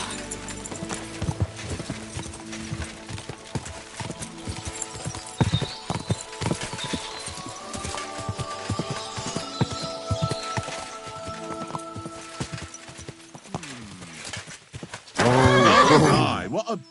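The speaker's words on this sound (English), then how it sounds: "My, what a beautiful horse." Horse hooves clip-clop in a steady rhythm over a busy background, followed by a loud, close whinny near the end.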